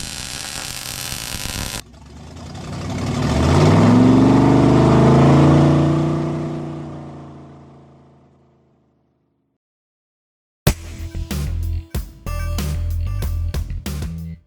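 A 1965 Ford Mustang with a 347 stroker small-block V8 cranks and fires into a loud swelling engine roar that fades out, then after a silent gap the recording returns as a busy burst of clatter and knocks.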